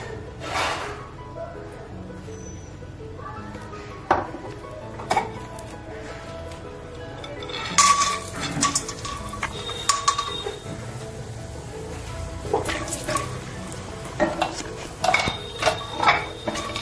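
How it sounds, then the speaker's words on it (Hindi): Peanuts being roasted in a pan with a little oil in a home kitchen, a spoon stirring and scraping with scattered metallic clinks and knocks, intermittent and close, over a quiet background. "थोड़ा सा ऐड डाल के हम मूंगफली को भी रोस्ट कर लेंगे।"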